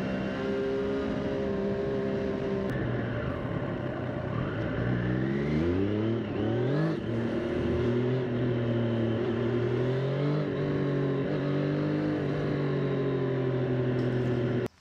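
A Triumph Street Triple 765 RS motorcycle engine holds a steady drone, then revs up and down in rising and falling sweeps, loud and continuous throughout.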